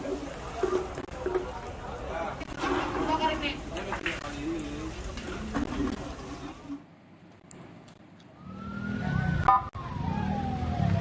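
A fire engine siren wails, rising and falling in the background once the chatter of a crowd quiets down, with voices returning over it, at a residential fire in North Jakarta.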